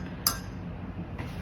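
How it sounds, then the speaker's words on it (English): A spoon clinks against a glass jar holding a thick flour-and-water sourdough starter mix: one sharp, bright tap near the start and a fainter one near the end, over a quiet, steady kitchen background. "I'm gonna get a spoon and just make sure I have no clumps of flour"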